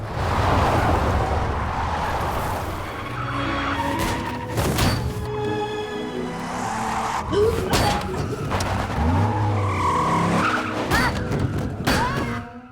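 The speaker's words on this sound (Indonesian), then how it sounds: "Para oknum polisi itu mengemudikan mobil secara ugal-ugalan" A car driven recklessly by police officers, with tires squealing and skidding over a roaring engine, mixed with thumps and slams, loud and continuous throughout.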